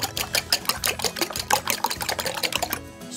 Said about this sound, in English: I need to beat the eggs up first